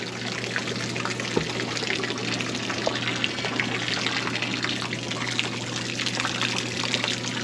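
Egg-smelling water pours and splashes steadily for several seconds on a sailboat, a continuous close trickling rush over a low background hum.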